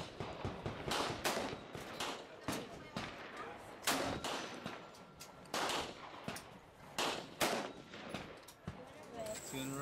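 Rifle gunshots from an ACR and a Savage 10BA sniper rifle at a shooting session, a series of sharp loud cracks spaced a second or so apart, with voices talking between shots.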